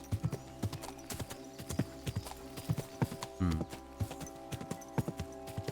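Steady clip-clopping horse hooves from the video game Kingdom Come: Deliverance II plod along at an even walking pace, close and distinct, over a low droning musical background with a brief snort in the middle.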